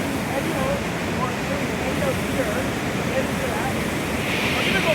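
Wilderness river current rushes over rapids and spills against a rock before a small drop, a dense, continuous roar of churning water that stays loud and close throughout.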